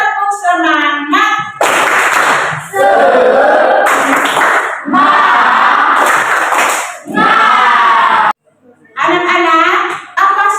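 A class of schoolchildren performs a loud, rhythmic clap chant together, bursts of unison clapping and shouted cheering broken by brief pauses, with a teacher's voice between.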